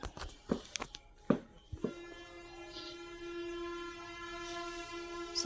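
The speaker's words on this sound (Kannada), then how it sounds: "ಬಸ್ಸಿನ ಸೌಂಡು, ಸ್ವಲ್ಪ ಹಾರನ್ಗಳೆಲ್ಲ ಸೌಂಡ್ ಕೇಳ್ಬೋದು" Street traffic outside a house with buses passing: after a few close clattering knocks, a long sustained vehicle horn drones steadily, moderately distant and fairly faint.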